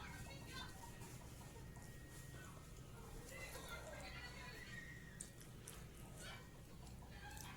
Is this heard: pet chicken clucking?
yes